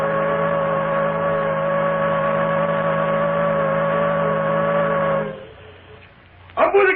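A steamboat's steam whistle blows a long, loud, steady chord in a radio drama, then cuts off and leaves a quieter hiss before a sudden burst of noise at the end.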